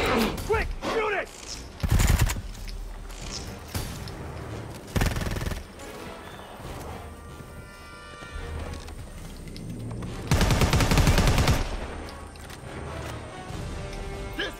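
Weapons fire in the Predator: Hunting Grounds video game on the Backwater map comes in loud bursts, some short and one longer sustained volley, amid busy game noise and a voice speaking.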